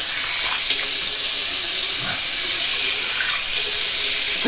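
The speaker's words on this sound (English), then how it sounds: "we're going to rinse it off with some nice dirty Lake Michigan water" Lake Michigan water runs over a safety razor as it is rinsed, a steady, close, continuous splashing rush with no voices.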